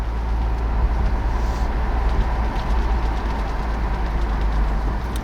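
A 2020 Toyota Camry XSE V6 rolls over a speed bump with windows open and panoramic sunroof open, giving a steady, close road and engine rumble with a soft thump partway through.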